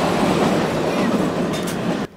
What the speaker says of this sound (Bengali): এখন আমরা ফার্স্ট টানেলের ভেতর দিয়ে প্রবেশ করছি।